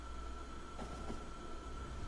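Trains rolling through a factory in the video game Factorio give a steady, low, faint mechanical rumble with a constant hum and no breaks, and no voices over it.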